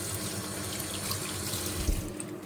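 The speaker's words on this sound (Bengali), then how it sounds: "হাতটা ধুয়ে নি।" Water runs steadily from a kitchen tap while hands are washed, giving a close, even rush throughout with a brief splash near the end.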